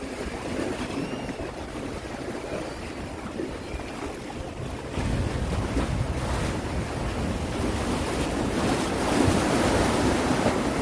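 Sea waves wash steadily against a Korean harbour at Yeongjin port on an overcast day, a constant broad rushing surf with wind buffeting the microphone, growing slightly louder midway, no talk.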